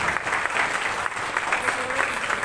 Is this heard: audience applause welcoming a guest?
yes